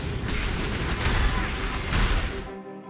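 Cursed enemies blow up in the video game Path of Exile, a dense burst of booming, crackling explosions layered together that cuts off abruptly at the end.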